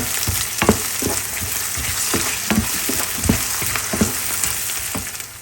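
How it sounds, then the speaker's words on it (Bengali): Sliced potatoes fry with onion and garlic in a pan, giving a loud, continuous sizzle broken by regular clacks of stirring, with no talking. "আলুটা আমি পেঁয়াজ রসুনের সাথে ভেজে নিব।"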